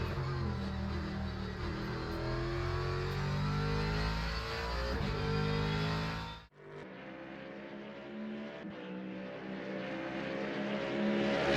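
A GT3 race car engine roars loudly and steadily in the Le Mans Ultimate sim racing game, cutting off abruptly partway through before a lower, quieter engine drone takes over and builds again.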